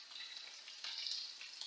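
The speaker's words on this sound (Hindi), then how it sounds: "मैं लहसुन अदरक का तड़का लगाऊंगी" A steady, bright sizzle of garlic and ginger frying in hot oil for sarson ka saag, close and continuous with small crackling swells.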